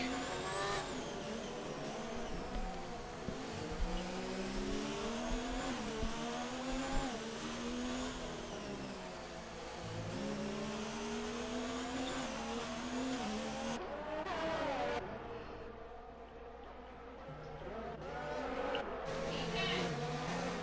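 F1 race car engines heard on board in the F1 2019 game, a sustained high-revving whine rising and falling through gear changes for about twenty seconds, with other cars running close by.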